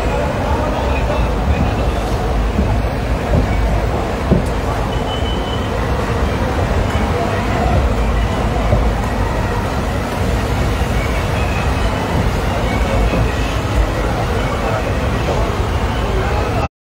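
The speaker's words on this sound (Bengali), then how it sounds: "বর্ধমান স্টেশন ঢুকে গেছে ট্রেন" A passenger train rolling into Bardhaman station during rain, heard as a steady, loud, broadband rumble of wheels and motion that fills the whole stretch without letting up, with faint voices mixed in.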